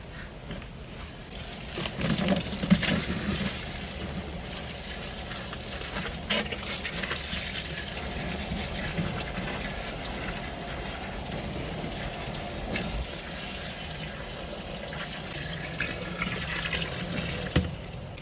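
Water gushes steadily from a tap into a bucket of comfrey leaves being filled for fertilizer tea, a continuous close rushing fill lasting the whole stretch with no voices.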